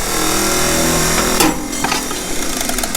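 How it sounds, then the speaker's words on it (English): A wrench drops off the tank of a 1948 McCormick-Deering W-4 tractor during a jump-started spin test: one sharp metallic clank midway through, over a loud, steady whirring motor drone. "that was the wrench came off the tank."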